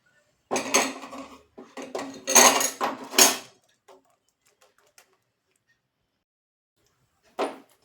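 Metal spoon clinking and scraping against a pot while milk is stirred off the heat, a few quick bursts of clatter followed by a pause and one last knock.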